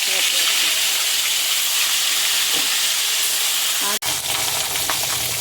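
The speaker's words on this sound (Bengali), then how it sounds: "তেলটা ভালোভাবে গরম হয়ে গেছে, এবার আমি মাছগুলো দিয়ে দেবো।" Fish rubbed with salt and turmeric sizzles steadily in hot oil in a home kitchen, a loud, continuous crackling hiss with a brief sharp dropout near the end.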